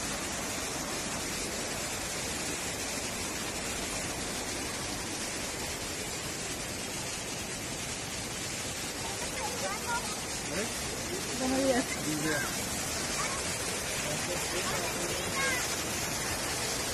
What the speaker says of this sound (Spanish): Y miren, ahí está el arroyo.